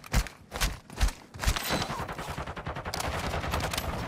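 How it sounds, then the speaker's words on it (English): Video game gunfire opens with a few spaced heavy shots, then turns into a fast continuous stream of automatic fire that stays loud and close to the end. "Taking effective fire."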